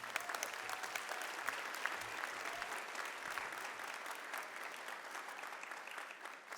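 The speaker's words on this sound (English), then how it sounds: "That deserves a round of applause." University convocation crowd applauding in a sustained, even roar of many hands, heard from a slight distance with scattered sharper claps and no talking.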